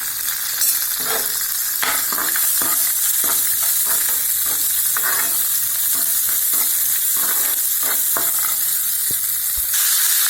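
Onions fry loudly in a hot pan for a South Indian masala kulambu, a constant close sizzle broken by the scrape and clatter of a spoon stirring.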